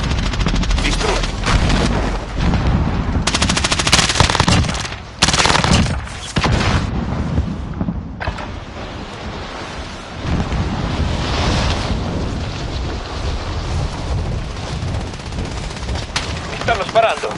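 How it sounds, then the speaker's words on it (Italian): Gunfire in a PS4 shooter game, dense bursts of automatic fire and blasts rolling into a loud, noisy wash that swells and fades over about seventeen seconds, with wind-like roar between volleys and brief spoken voice. "Mi stanno sparando."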